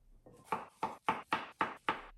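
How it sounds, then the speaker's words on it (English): A knife chopping an onion on a cutting board: six crisp, evenly spaced cuts in quick succession, close and fairly quiet, with no talking. "cutting with the onion, grab the root and cut what would be the top of the onion off"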